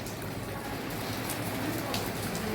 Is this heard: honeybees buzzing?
no